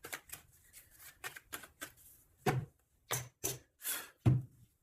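Oracle cards shuffled and cut by hand, a series of crisp riffling flicks and soft slaps in uneven bursts with short gaps, close and clear with no talk.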